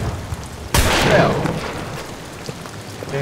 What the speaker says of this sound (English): Damn, that explosion, man.